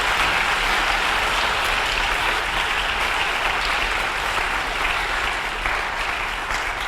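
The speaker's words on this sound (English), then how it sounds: "I think we should give the outgoing members a round of applause for the work that they have done" A general meeting audience claps for outgoing members, producing steady, dense applause that stays loud and even from start to finish, with no other sounds standing out.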